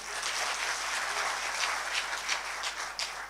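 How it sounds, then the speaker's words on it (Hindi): Audience applause at a Hindi poetry recital, a steady wash of many hands clapping at moderate volume with no voices over it, spread evenly across the stretch. "सही बात कही, ताली बजाइए।"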